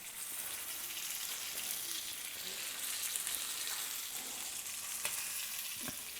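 Tandoori chicken pieces sizzling and frying in a pan over a low flame, a steady soft hiss with faint crackles and a few light scraping stirs, close and alone without talk.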